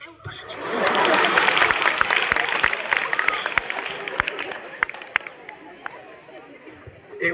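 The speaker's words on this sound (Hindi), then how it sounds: "एक बार जोरदार तालियां।" An audience claps for teachers at a school Teacher's Day celebration, a burst of applause that swells early and then thins into scattered sharp claps, with chatter and voices mixed in the crowd noise.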